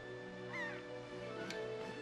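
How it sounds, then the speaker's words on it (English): Birds squawking in the video game The Legend of Zelda: The Wind Waker HD, a few cawing calls over steady game music and ambience. "At least these birds can't hurt me."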